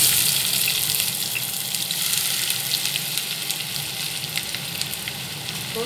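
Chopped onions with green chillies sizzle steadily in well-heated oil for an okra sabji, a dense, even crackling hiss that holds close and loud throughout with no voices.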